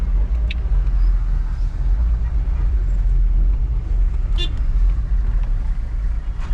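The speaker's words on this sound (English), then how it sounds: "Crazy traffic jam here. Downtown Nairobi." Downtown Nairobi traffic jam: a steady low engine rumble of idling cars and buses fills the street, with a couple of short car horn toots breaking through.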